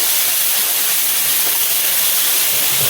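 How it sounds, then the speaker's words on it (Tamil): Ginger garlic paste sautéing in a pan while making chicken gravy, giving a constant loud sizzling hiss with no pauses, close to the pan. "இஞ்சி பூண்டு விழுது போட்டு அப்படியே கொஞ்சம் வதக்கணும்."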